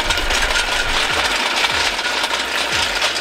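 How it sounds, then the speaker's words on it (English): Exhaust from a Mazda RX-7 FD runs loud and close, a raspy, rattling drone broken by irregular low pops and burbles throughout. "Exhaust is crazy."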